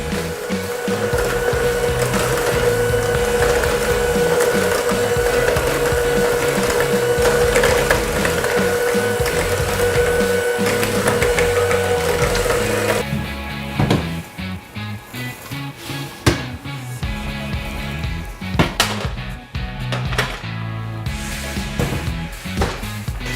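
A mixer runs at slow speed through butter pecan blondie batter until it turns creamy, giving a steady close whirring hum for about thirteen seconds before the motor stops and scattered clattering handling noises follow.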